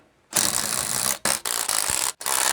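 A ratchet spins wheel nuts on alloy wheels in three rapid, loud buzzing bursts, separated by short pauses.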